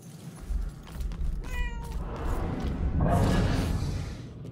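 In the video game Murdered: Soul Suspect, a cat gives a short meow early on, followed by rustling and a rising whooshing ambience.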